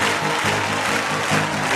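A church congregation applauds during a worship service, a dense, sustained wash of many hands clapping together at close range.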